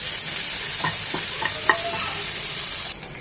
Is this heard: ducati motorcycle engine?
no